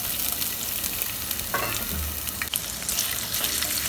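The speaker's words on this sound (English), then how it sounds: "add a tablespoon of oil, and now you're going to put in the ginger and the garlic which you have chopped" Chopped ginger and garlic frying in a tablespoon of oil in a kadai, a close, steady crackling sizzle with a few stirring scrapes and clinks.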